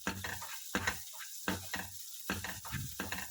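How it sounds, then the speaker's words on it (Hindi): Vegetables cooking in a pan for tawa pulao, a steady sizzle broken by repeated scraping strokes of a spatula stirring through them, close and rhythmic with short pauses between strokes. "साथ साथ हमारे वेजिटेबल्स भी कुक हो रहे हैं।"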